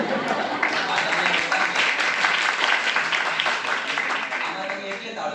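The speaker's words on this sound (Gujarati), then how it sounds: "તાળીઓ પાડી" An audience at a World Mother Language Day event breaks into sustained applause, a dense, even wash of many hands clapping that holds steady for several seconds without a break.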